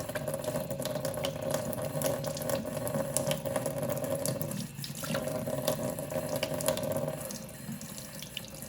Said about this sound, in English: I'm not rinsing the tomatoes, I'm rinsing the outside of the can here